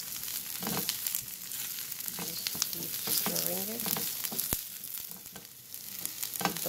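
A long eggplant fries in a pan over a flame, giving a steady sizzle with some stirring clatter through the whole stretch. No one speaks.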